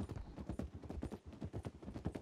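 Steady clip-clop of horse hooves, a brisk regular rhythm of hoof strikes close by, with no voices.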